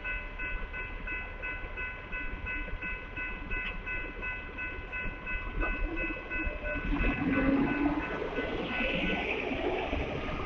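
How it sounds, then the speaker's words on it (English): Long Union Pacific mixed freight train passing at Oltorf Street in Austin, Texas, a steady rumble and clatter of cars rolling by at a moderate distance, growing louder with rattling and squealing wheels toward the end. "There goes that long freight train going by here this morning"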